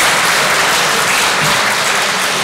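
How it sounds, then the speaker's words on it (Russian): Audience applause greeting a lecture speaker, the vice-president of the Tolstoy Foundation, at a lecture on Prince Volkonsky. A loud, dense, steady wash of clapping fills the whole stretch with no talk over it. "Ваши аплодисменты."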